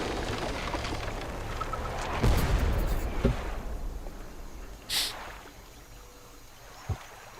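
Explosions from the fishing video game Dredge go off as several deep, rumbling booms, with a few sharper bangs spaced through a low, murky background.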